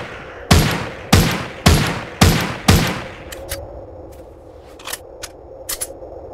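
Gunfire in The Walking Zombies II video game: five loud, evenly spaced shots in quick succession, then a quieter stretch of scattered clicks and small impacts with no voices.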